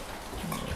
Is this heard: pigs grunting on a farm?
yes